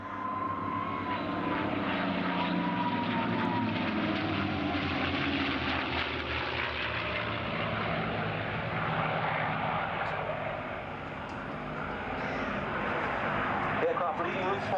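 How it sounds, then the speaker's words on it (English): A two-seat TF-51B Mustang flies at the Duxford air show, its piston engine drone rising and falling steadily as it passes, with a commentator speaking over the sound throughout. "Leading route formation is a two-seat TF-51B model operated by the Fighter Collection."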